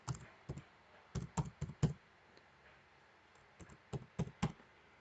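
Someone retypes a password on a computer keyboard for voter registration access: a dozen or so quiet, close key taps arrive in two bursts separated by a pause, with no talk over them.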